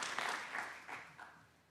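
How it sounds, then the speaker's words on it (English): Soft, fading applause from attendees at a Fulton County Board of Commissioners meeting honoring Pete Correll, several short swells of clapping that trail off quietly, with no voices. "Let's give Pete a round of applause"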